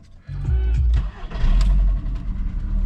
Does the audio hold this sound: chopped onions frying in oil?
no